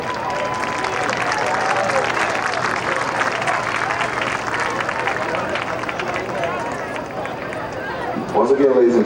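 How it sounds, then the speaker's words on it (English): Crowd applause at a University of Arkansas at Pine Bluff football game honoring the chancellor, broad stadium clapping and murmur with voices over it, swelling briefly at the end. "big round of applause for Dr. Lawrence Alexander, Chancellor of the University of Arkansas at Pine Bluff"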